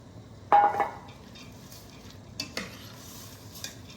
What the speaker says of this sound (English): And stir that around.